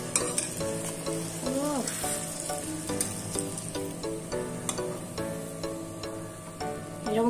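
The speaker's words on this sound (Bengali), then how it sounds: "পায়েস ফুটছে, অন্যদিকে মা লুচি ভাজছে।" Luchi, puffed Bengali flatbreads, frying in oil that has got too hot, giving a steady close sizzle with clinks and stirring sounds over a busy kitchen background, with no talk.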